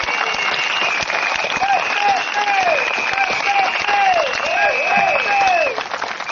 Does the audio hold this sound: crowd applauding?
yes